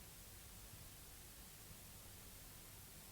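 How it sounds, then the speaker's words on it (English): Steady, hissy crackle like a vinyl record surface plays alone throughout, faint and even with no other sounds. "It's just a simple vinyl texture from the One Shot Kit."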